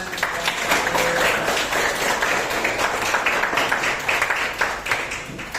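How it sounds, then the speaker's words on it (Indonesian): Students in a religious education classroom clap for a classmate, giving brisk, fairly loud applause from a small group that carries evenly throughout with a few distinct hand slaps audible. "Oke, terima kasih Fadil. Tepuk tangan."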